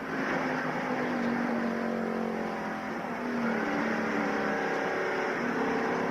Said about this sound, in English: You can hear that motor wide open.